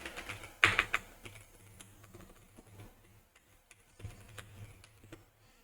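Quiet, close keystrokes on a computer keyboard while entering an email address during account registration, scattered taps in short irregular bursts with pauses between them.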